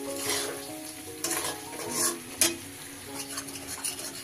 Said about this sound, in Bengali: ক্রমাগত এইভাবে নাড়তে হবে।